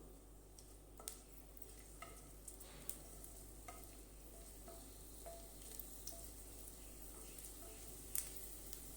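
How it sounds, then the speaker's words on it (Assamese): Garlic frying in oil as part of a taro chop recipe, a steady low sizzle with scattered soft pops and ticks throughout, faint and continuous with no voices. "এতিয়া তেলত মই নহৰুখিনি দিছোঁ।"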